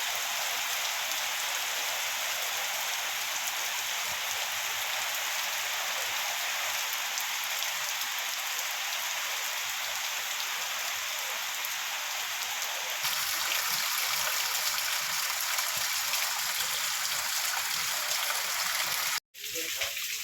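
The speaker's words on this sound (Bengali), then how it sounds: "ভয়াবহ বৃষ্টি হইতেছে।" Heavy rain pours down in a village north of Hajiganj, a dense, steady hiss of drops on surfaces that runs unbroken for about twenty seconds before a brief cut near the end.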